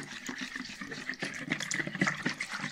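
Water is poured into a donut dough mixture of milk, egg and yeast, a short soft splashing trickle at close range with no talking.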